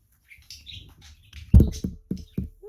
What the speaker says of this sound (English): do you hear my birds in the background? I've got 2 parakeets and they're being very loud.